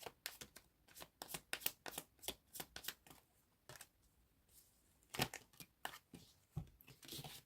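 A deck of tarot cards being shuffled: a quick run of crisp riffling and flicking bursts, close and fairly quiet, with brief pauses between passes and no talking.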